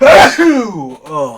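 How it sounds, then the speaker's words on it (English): A single close, loud sneeze bursting out, followed by a short breathy vocal exclamation. "that was a sneeze."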